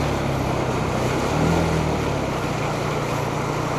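Floodwater rushing and splashing against a vehicle riding through flooded streets in Guagua, a constant loud dense wash of water noise with a slight swell midway.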